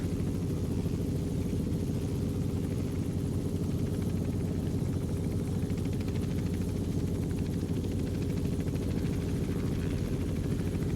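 A light helicopter in a flight simulator flies over Kodiak Island, its engine and rotor giving a steady low drone with a fast rhythmic chop, constant and close for the whole stretch.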